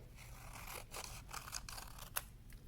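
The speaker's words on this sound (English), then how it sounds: "And I'm going to cut those apart." Scissors snip apart paper skeleton rib pieces for a Skele-Pal craft, several short crisp cuts in a loose rhythm, close and fairly quiet over a low background hum.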